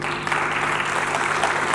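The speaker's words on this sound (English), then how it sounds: "Really needs a loud applause" Brief, dense applause from an audience at a hospital celebration event, a steady wash of clapping lasting under two seconds.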